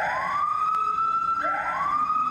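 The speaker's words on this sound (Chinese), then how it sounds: "火警警报器还是响个不停" A faulty fire alarm at a train station wails loudly and close, in long rising electronic sweeps that repeat one after another, and keeps sounding after a false alarm.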